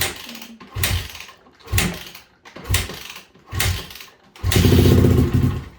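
Yamaha YZ400 dirt bike after years unused, kicked over on a cold engine: four or five separate bursts of sputtering effort, then a short rough catch that runs for about a second before dying.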